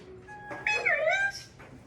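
A cat gives one clear, drawn-out meow that rises and bends, preceded by a softer tonal cry, close and fairly loud against a quiet room.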